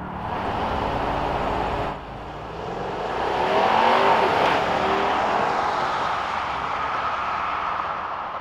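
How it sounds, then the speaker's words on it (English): A 2022 Mercedes-Benz S580 4MATIC accelerating hard down a runway, its engine and road noise a loud continuous roar that dips briefly, then swells and holds steady, with no talk. "we'll be running our usual half-mile acceleration test down our runway"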